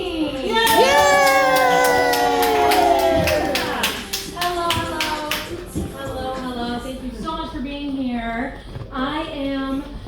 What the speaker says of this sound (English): give a big warm round of applause for your act this evening